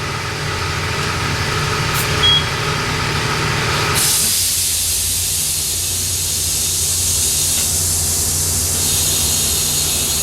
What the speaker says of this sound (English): Put some air in our tire.